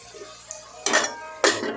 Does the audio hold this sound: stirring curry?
yes